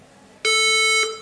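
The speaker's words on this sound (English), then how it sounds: "It will give me that beeping sound for indicating that it has no RAM and the CMOS battery" An HP ProBook 430 G8 laptop with no RAM installed sounds a single loud, sharp electronic beep of about half a second, starting abruptly and ending cleanly in a quiet room.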